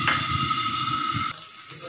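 Spice paste hits hot oil in a pan while cooking bhola fish curry, letting out a loud, broad sizzling hiss and spatter. It drops sharply partway through, leaving a fainter sizzle.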